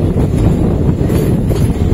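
Circar Express train running between Kakinada Port and Puducherry near Tanuku, a loud, steady low rumble of the moving coach with wind buffeting, close and continuous.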